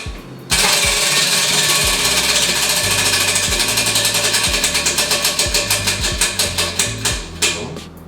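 A prize wheel in a kitchen cooking game spins with rapid, loud ratcheting clicks that gradually slow and spread apart until the wheel stops.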